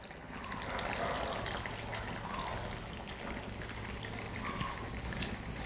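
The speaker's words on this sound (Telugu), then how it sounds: "అది పులుసు వేస్తున్నాను" Soaked tamarind water is poured into a cooking pot over spices, giving a soft continuous splashing gush that runs for several seconds, with a few faint clinks near the end.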